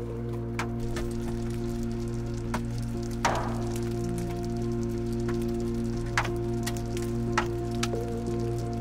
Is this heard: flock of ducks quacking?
no